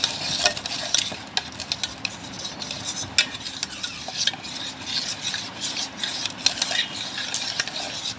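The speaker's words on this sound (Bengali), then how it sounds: "কড়াই যে দুধটা জাল হচ্ছে দুধের মধ্যে ঢেলে দেবো।" Milk being poured into heating milk in a kadai and stirred for homemade cow's-milk curd, giving a steady close scraping and stirring with faint sizzle and occasional clinks of the utensil against the pan.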